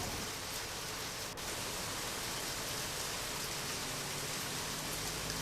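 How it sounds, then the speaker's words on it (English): Steady, fairly faint rainfall hisses evenly throughout in the video game Deadly Premonition, with no talk over it. "hope that this rain lasts all day"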